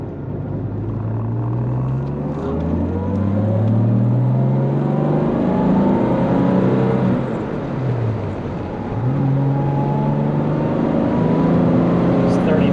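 A 1968 Jaguar E-Type Series 1.5 coupe engine on a test drive, heard from inside as it rises and falls through the gears with rising pitch sweeps and steady loud rumble, with occasional talk in the cabin.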